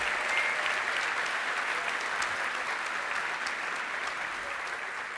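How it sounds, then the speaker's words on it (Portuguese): A church congregation claps during a sermon, producing a steady, even roar of applause at moderate loudness that holds for the whole stretch with no speech over it. "Você pode aplaudir mais forte com alegria?"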